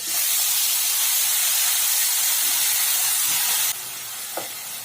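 Garlic and onion frying in a pan give a loud, steady sizzling hiss close by for several seconds, then drop abruptly to a quieter sizzle with a single faint clink.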